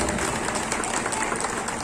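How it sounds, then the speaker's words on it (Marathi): A crowd applauds to welcome Uday Samant at a Maharashtra political gathering: dense, steady clapping throughout, fairly loud and close, with no pauses. "जोरदार टाळ्या वाजवून त्यांचं आपण सर्वांनी स्वागत करायचं"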